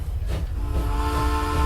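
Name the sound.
train in the video game Transport Fever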